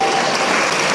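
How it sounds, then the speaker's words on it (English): Audience at the Arts Pasifika Awards 2019 clapping for recipients, a loud, dense burst of applause filling the whole second with no gaps. "Come on, let's give them a big hand to come up."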